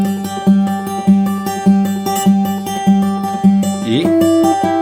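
An acoustic guitar plays the verse of a song in repeated, evenly spaced strums that ring out clearly and close up, with a chord change near the end. No voices are heard.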